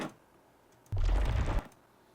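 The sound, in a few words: warbly whooshing motion sound effect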